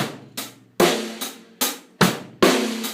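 A short drum kit groove of crisp snare and cymbal hits, evenly spaced and played up close, with the low bass drum thump left out.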